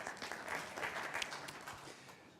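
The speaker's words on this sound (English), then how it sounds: "A round of applause, please, for him" Conference audience applauding a speaker at an energy launch event in Kigali, a soft, fairly distant patter of clapping that swells slightly and then tapers off.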